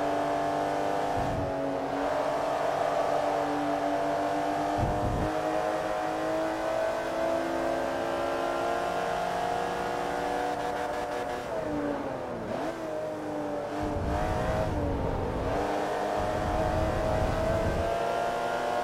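A Porsche Boxster in Forza Motorsport 3 pulls away and accelerates hard, its engine revving steadily through gear changes with brief dips and a faint tire squeal, loud and continuous with no voices.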